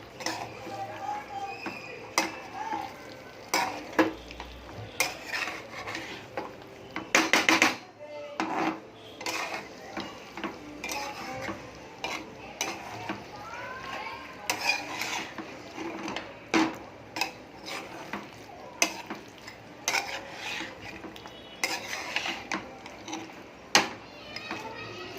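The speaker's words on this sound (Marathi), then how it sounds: "हे बघा सगळे पीस मी कढईमध्ये टाकलेले आहेत. आता आपण हे प्रॉपर मिक्स करायचे आहेत असे." Chicken pieces being mixed in a kadhai for Sangli-style chicken, with irregular metallic scrapes and clatters from a spoon against the pan and soft voices in the background.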